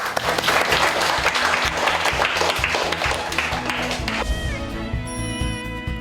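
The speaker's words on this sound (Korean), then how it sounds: "다 같이 그런 의미에서 박수 한번." Students in a classroom applaud together, a dense burst of clapping that thins out toward the end as music-like tones enter.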